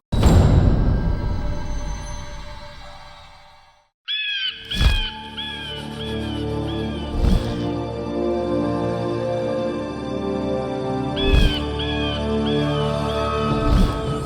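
A parrot serving as a spy bird in a mythological drama calls in a series of short, bright, repeated chirps over a swelling orchestral score, with several heavy booming hits between them.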